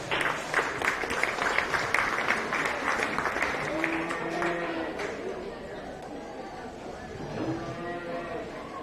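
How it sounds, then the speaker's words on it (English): Applause and cheering from a county fair beef show crowd for a young livestock exhibitor, a steady clapping wash for several seconds with talk and murmuring mixed in. "Let's give her a big round of applause."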